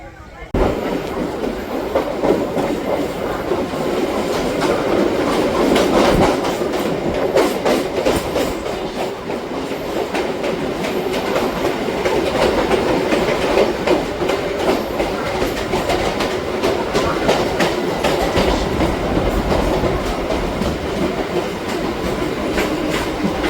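A local train on the Majherhat to Barasat line runs steadily, with a loud continuous rumble and rattling clickety-clack of the wheels throughout, the carriage noise close and unbroken.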